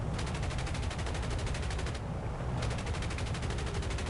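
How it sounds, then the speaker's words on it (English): Rapid automatic gunfire in a video game, a dense, evenly spaced stream of shots with a brief pause partway through before firing resumes, loud and close with no talk. "I'm firing off a few lucky shots."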